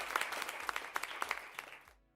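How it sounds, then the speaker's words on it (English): Scattered clapping during a live futures-trading stream, a short run of distinct individual claps at moderate level that thins out and stops abruptly near the end. "Huge applause to Dave Mac."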